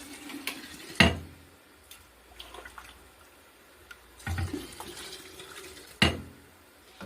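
Water poured into a canning jar of grapes for homemade grape juice, heard as faint trickling and filling with a few sharp clinks and taps of glass at intervals in a quiet kitchen.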